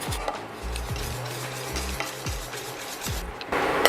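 Cayenne and nutmeg being stirred into a creamy cho cho casserole in a pan: steady, rhythmic scraping strokes, close and clear, with a faint sizzle underneath.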